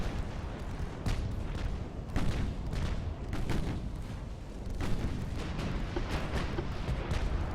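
In the naval battle game Ultimate Admiral: Dreadnoughts, 13-inch guns fire in a continuous dense rumble of overlapping booms and blasts that stays loud and heavy throughout.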